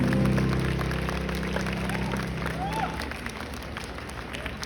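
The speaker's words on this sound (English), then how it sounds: "Give the loudest clap to your beloved dean." An audience claps for a dean at a ceremony, the applause faint and continuous over a low steady hum, thinning toward the end.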